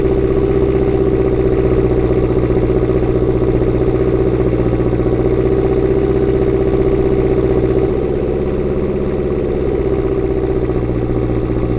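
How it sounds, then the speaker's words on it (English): A Jeep grinds steadily through compacted snow drifts in freezing winter conditions, its engine holding a continuous, fairly loud mid-pitched drone with a slight clattering edge, and the tone dropping a little near the end. "now we're just moving really easy through the compacted snow drifts"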